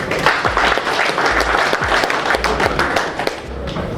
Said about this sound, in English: Once give claps for her.